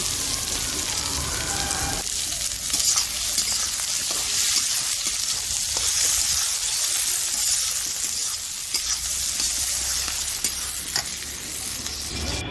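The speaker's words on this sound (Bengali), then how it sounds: "কড়াইতে সব সবজিগুলো, কাটা সবজিগুলো দিয়ে একটু বেশ ভালোভাবে ভেজে নেব।" Chopped home-grown vegetables fry in a wok with a little oil, giving a loud, steady sizzle with frequent stirring scrapes and no talking throughout.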